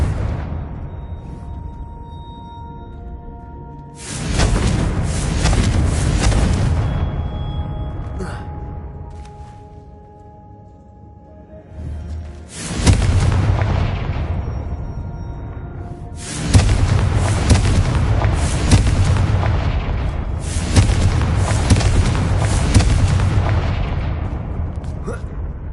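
Confringo blasting spells in Hogwarts Legacy burst as several loud, booming explosions in separate bursts, each with a rumbling tail, between quieter stretches where a voice calls out the spell.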